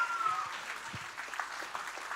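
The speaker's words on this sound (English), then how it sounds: "Can we please give them a round of applause?" Audience applause after the EcoBed team's pitch at the Future Anything National Grand Final 2022, a fairly steady, moderately distant wash of clapping lasting a couple of seconds.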